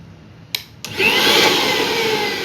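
A couple of clicks, then a kitchen mixer grinder whirs up to a loud, steady high-pitched whine that continues to the end.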